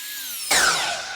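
A power tool bites into a wooden piece while cutting a taper along its side, an abrupt loud onset after a quieter whining run-up, continuing as a close, bright rasping cut.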